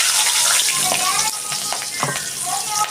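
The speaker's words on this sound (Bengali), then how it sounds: "ফোড়নে তিনটে কাঁচা লঙ্কা দিয়ে দিচ্ছি" Three green chillies hit hot oil for tempering, giving a loud, dense, close crackling sizzle with occasional sharper pops and a brief dip midway; no speech.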